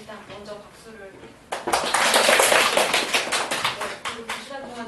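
An audience bursts into applause for a lecturer at the close of a humanities study session on literary history. Dense, loud clapping starts abruptly after quieter talk and continues steadily to the end, with voices faintly under it.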